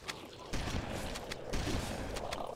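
Gunfire from the video game Halo, loud overlapping bursts and rattling shots against a dense battle din, with a couple of heavier thumps.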